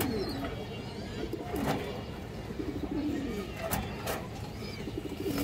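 Low, repeated cooing from pigeons, including a worked female pigeon offered for sale, murmurs on through steady background bustle, with faint voices and a couple of brief sharp knocks.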